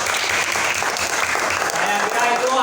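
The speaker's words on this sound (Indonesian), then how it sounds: "tepuk tangan buat kelompoknya Luna" A classroom of students applauds a presenting group, with dense continuous clapping and some voices mixed in.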